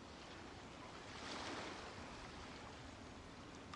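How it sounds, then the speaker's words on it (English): Steady wash of ocean surf with a gentle swell rising near the middle, continuous and fairly soft, no voices. "The sound of the ocean waves."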